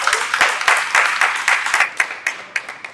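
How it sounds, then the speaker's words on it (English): A crowd claps enthusiastically, a dense wash of applause with sharper individual claps standing out as it gradually tapers off. "clap it up for yourself"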